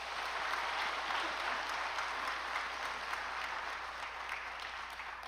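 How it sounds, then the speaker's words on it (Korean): A church congregation applauds during a sermon, producing an even, sustained wash of clapping from many hands that carries on without a break for several seconds. "우리 그분 박수 한번 쳐주세요."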